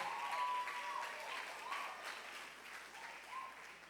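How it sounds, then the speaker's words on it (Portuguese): Faint applause from a church congregation during a morning service, a soft wash of clapping heard at a distance with a little background murmur. "Você pode aplaudir ao Senhor."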